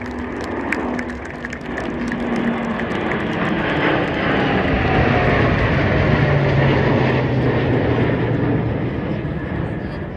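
Indian Air Force and Navy aircraft flying together in the Varuna formation during a Republic Day flypast: a loud, continuous roar of aircraft engines, broad and sustained for ten seconds, with a slowly shifting pitch as the formation passes overhead.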